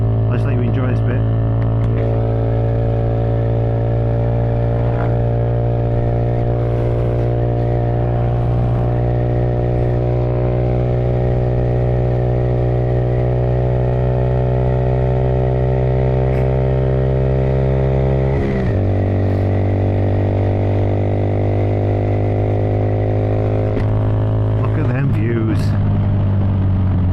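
Motorcycle ridden on the Dragon Rally over Wales's Horseshoe Pass and Home Moss on a calm day: a steady, loud engine drone holding a constant note, with a gear change near the middle and another late on, and no wind roar.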